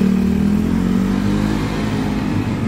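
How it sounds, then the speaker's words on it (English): Cars pass along a narrow side street near Victory Monument in Bangkok, giving a close, steady engine rumble and whir that holds at an even loudness throughout. "Stepping out of the way of cars."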